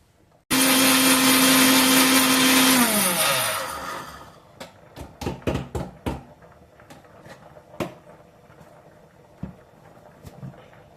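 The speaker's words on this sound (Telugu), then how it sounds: "ఇవి ఏం చేద్దాం అంటే మిక్సీ వేసేద్దాం" A mixer grinder grinding ingredients for an egg and garlic chutney roars loudly for a few seconds, then winds down and stops, followed by scattered clicks and knocks.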